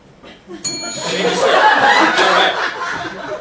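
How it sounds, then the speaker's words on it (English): A bright game-show bell dings once and keeps ringing while a live audience laughs over it. "write it first and then hit the bell."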